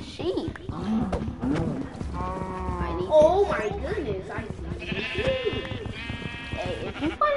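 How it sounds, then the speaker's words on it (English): Sheep bleating in the Minecraft video game, several wavering bleats repeated over a few seconds, mixed with a person talking throughout and other game sounds. "Oh my goodness, I see a sheep."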